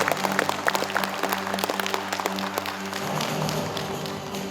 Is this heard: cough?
no